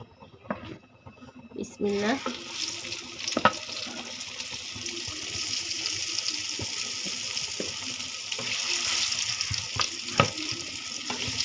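Eggplant slices fry in oil in a pan, a constant hissing sizzle with occasional pops and clinks of handling, while a person talks faintly at times.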